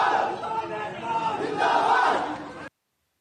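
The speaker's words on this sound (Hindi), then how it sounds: "भैंसवाल में संजीव बालियान और बीजेपी के खिलाफ जमकर नारेबाजी की गई" Villagers in Bhainswal shout protest slogans against a minister and the BJP, a loud massed crowd chant that swells and holds for a few seconds before cutting off abruptly.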